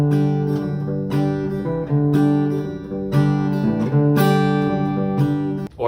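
An acoustic guitar strums the same chords over and over in a classic country style, bright, rhythmic bursts of strumming with steady pulses and sustained ringing notes, close and clear with no voices.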